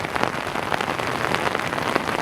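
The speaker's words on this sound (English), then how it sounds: "The rain just keeps coming." Heavy rain pours down steadily on a rural Oklahoma farm during a flood, a dense, close hiss of drops pattering hard on surfaces without letup.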